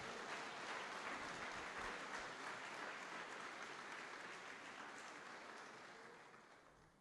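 A church congregation breaks into sustained applause at a Pentecost service, a dense even wash of clapping that stays full for several seconds and then gradually fades out.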